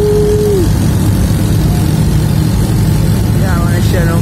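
Loud, constant roar of a speedboat engine on the water as it races a boat, a steady dense drone filling the whole stretch with faint whining tones over it.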